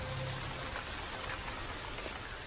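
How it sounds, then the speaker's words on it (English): Steady rain falls in Luangwa Valley as a drought breaks, a dense, even patter of drops that holds at one level throughout with no voices. "The rains are welcomed by most animals,"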